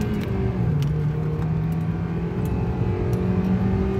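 A 2010 Honda Civic's engine hums steadily from inside the car, a continuous droning tone rising slightly as it pulls forward, loud and constant throughout with no talk.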